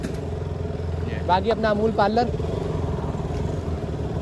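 A motorcycle engine hums steadily underneath someone speaking Hindi while riding along an Indian street, with a brief louder burst of voice in the middle.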